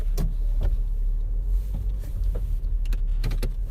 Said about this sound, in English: I gotta reverse the car